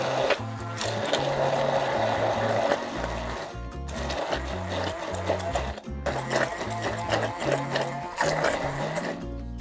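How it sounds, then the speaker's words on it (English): A blender whirs through artichokes and olive oil in loud, steady pulses, cutting out briefly twice before starting up again with a rough, grinding motor drone. "We're going to blend it, see if we need a little bit more olive oil."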